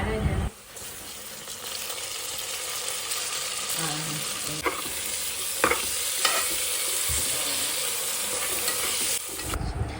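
Chopped coriander and tomato sauté in a pan for a Kerala mutton curry, giving a continuous loud sizzle with a few scraping stirs and a brief splash near the end.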